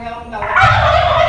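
Turkeys gobbling on a Filipino backyard farm, a loud, rippling gobble that swells partway through and carries on to the end, close by and without talk over it.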